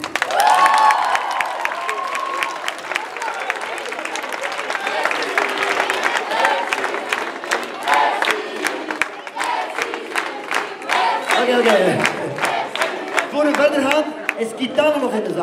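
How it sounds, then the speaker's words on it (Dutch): A large crowd at a Dutch dance show applauds, cheers and whoops loudly and continuously, with shouting voices mixed into the sustained roar. "Geef allemaal nog een daverend applaus voor jullie zelf."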